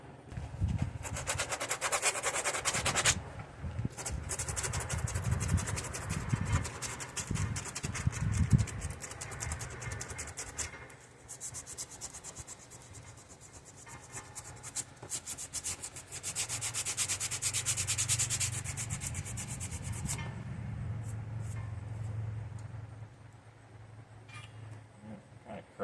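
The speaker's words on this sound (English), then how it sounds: "I'll do a little hand sanding right there." Hand sanding body filler on a square-body Chevrolet C10 truck, close scratchy rubbing strokes in rhythmic back-and-forth bursts, with pauses and softer scraping between passes.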